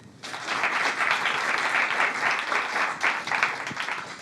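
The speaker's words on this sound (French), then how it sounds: "On peut l'applaudir aussi." Studio audience applause for guest Marie-Pierre Mérès on a French talk show, dense clapping that starts abruptly and stays steady at a moderate level, tapering slightly at the end.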